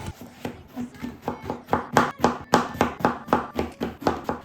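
A knife chops eggplants on a cutting board in a steady, rapid rhythm of crisp thuds, about three to four strokes per second, close and clear with no talk.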